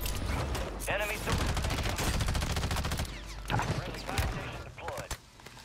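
Rapid bursts of gunfire in the online shooter Warzone, dense and continuous before thinning out, mixed under game effects and voices talking over them.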